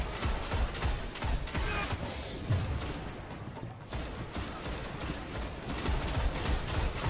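Weapons firing in the video game Destiny during a Nightfall strike, a run of sharp repeated shots and bursts that thins out in the middle before picking up again, with no talk over them.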